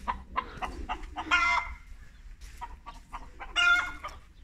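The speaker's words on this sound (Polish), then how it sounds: "O, kurki." Several hens cluck and murmur in short, irregular bursts, fairly close, with a couple of louder squawking calls standing out.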